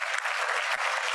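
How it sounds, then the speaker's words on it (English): An audience at a Rotary meeting claps continuously, a dense, steady burst of applause filling the short moment. "Yeah, you clap. That's good. You clap it out."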